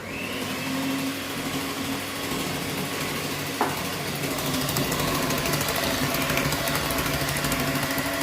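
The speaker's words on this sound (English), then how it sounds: "now we're going to whisk it all together" Chocolate cake batter of butter and milk being whisked, a steady close mechanical whirring like an electric mixer running throughout, with one brief knock partway through.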